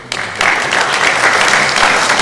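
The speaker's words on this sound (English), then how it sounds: "I ask that you please refrain from your applause" Audience at a town council meeting bursts into applause, with a brief start and then sustained, dense clapping from a roomful of people.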